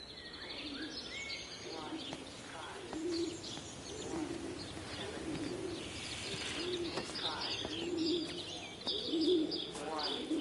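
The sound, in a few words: birds cooing and chirping in video game Everybody's Gone to the Rapture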